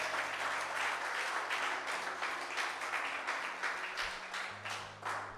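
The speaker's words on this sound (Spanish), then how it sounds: "Dale un aplauso al Señor." A church congregation claps in warm applause that stays fairly steady and then thins toward the end, with faint instrument tones underneath.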